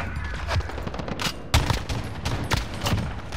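Rapid video game gunfire from a competitive shooter, a dense string of sharp shots with several louder close bangs standing out over continuous firing.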